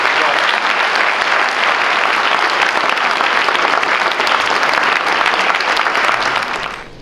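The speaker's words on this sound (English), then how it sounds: "Please give him a big round of applause." Audience applause fills the room at a Cincinnati Public Schools event, loud, dense and steady clapping that holds for several seconds before fading at the close.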